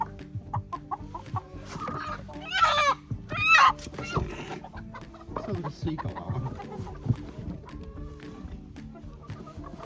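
Egg-laying chickens clucking on a homestead, a mix of close squawks and murmuring clucks with a couple of louder calls, irregular and busy, with faint human sounds in the background.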